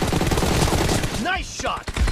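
Rapid gunfire bursts rattle loudly in a team deathmatch video game, followed by a short electronic game sound and a brief voice callout.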